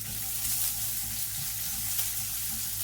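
Freshly sliced onion dropped into hot coconut oil where mustard seeds have already popped, giving a steady, fairly loud hiss and crackle for about three seconds with no talking.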